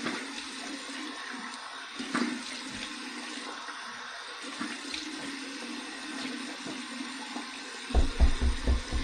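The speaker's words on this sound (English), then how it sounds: "I flipped it to the cold water side. I'm going to do my cold water rinse here." A bathroom tap running cold water for a post-shave rinse, a steady close hiss of flowing water throughout, ending with a few low thumps and splashes.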